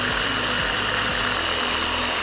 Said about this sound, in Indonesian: Saya bor di sini ini ya, nih.